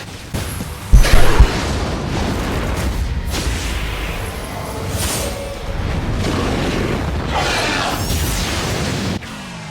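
Soul Bomb attack exploding in the mobile game Bleach Brave Souls: a sharp, heavy boom early on followed by several whooshing blasts and rumbling impacts, loud and close, with no voices.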